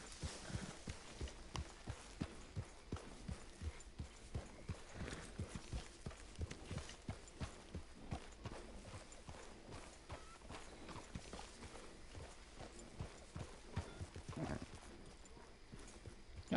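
A horse's hooves clip-clop at a steady walking rhythm in Red Dead Redemption 2, close and even beats with no talk over them.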